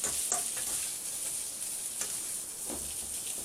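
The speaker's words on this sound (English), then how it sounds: "It's been 11 minutes, and it's still frying away." Vegetables coated in a few tablespoons of oil fry steadily in a new wok, a continuous close hiss and sizzle with occasional soft stirring clicks and crackles, no voices.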